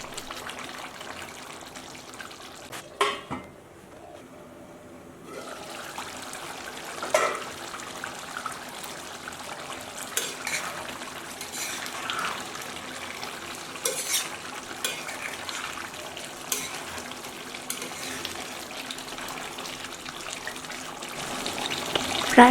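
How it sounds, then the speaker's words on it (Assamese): Pork and ash gourd boil on a high flame, a soft bubbling and sizzle with scattered stirring clinks and scrapes in the pot, fairly faint and continuous, no talk. "ভালদৰে হাই ফ্লেমত উতলিবলৈ ৰাখি দিছোঁ"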